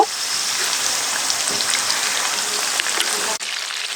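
Chicken pieces with a KFC-style coating fry in hot oil, a steady close crackling sizzle with scattered pops, alone and continuous before a brief drop near the end.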